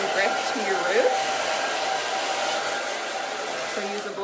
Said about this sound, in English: take the brush and just lightly pull and blow dry this out